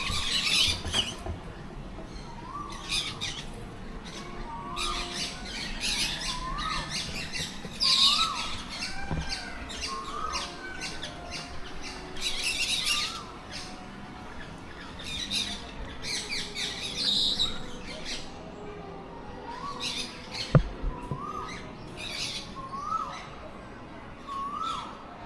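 Parrots and other birds at Phuket Bird Park in Thailand give repeated harsh squawks and short chirps throughout, moderately close, with low background murmur and occasional voices.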